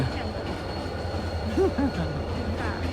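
Steady low rumble of a Korean electric train running, with a brief pair of high metallic squeals from the wheels partway through.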